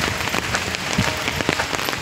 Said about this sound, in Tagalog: nag-umpisa na nga po ang ulan, pero wala pa siyang masyadong hangin